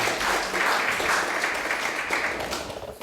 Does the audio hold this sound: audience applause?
yes